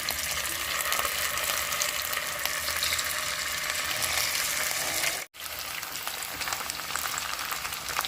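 Cubed boiled potatoes sizzle in hot oil in a pan for dum aloo, a loud, steady hiss of frying that cuts out briefly near the end before resuming, with no speech.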